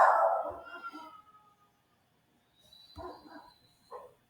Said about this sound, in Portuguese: E a cachorra começou a latir bem na hora.